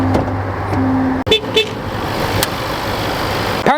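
A 2026 Land Rover Defender with a supercharged 5-liter V8 and 8-speed gearbox runs with a steady, deep rumble, broken by a brief dropout and a few short high chirps. No one speaks.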